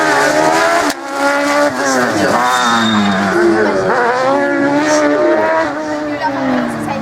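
A Dallara 387 race car at a slalom event in France, loud and near, its engine revving and rising in pitch through gear changes, with tire noise as it accelerates through the course.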